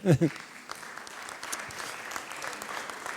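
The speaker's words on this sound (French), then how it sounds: "Applaudissez-vous, ça vous fera du bien, ça va vous détendre." Moderately distant applause fills a public debate hall after a brief spoken exclamation, the clapping steady and diffuse for about three seconds.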